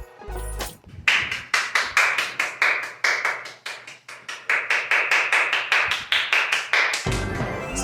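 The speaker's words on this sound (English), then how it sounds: "We should give this guy a round of applause." Hands clapping in a rapid, even rhythm, loud and close, holding steady for about six seconds before a low rumble takes over at the end.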